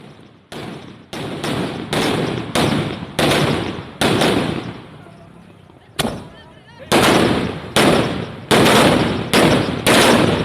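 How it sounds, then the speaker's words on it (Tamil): Firecrackers set off by residents of the Mallur area during a celebration over a newly opened link road burst in loud, rapid rattling strings, about a dozen close, sharp volleys separated by brief gaps. "மல்லூர் பகுதி மக்கள் பட்டாசுகளை வெடித்து கொண்டாட்டத்தில் ஈடுபட்டனர்"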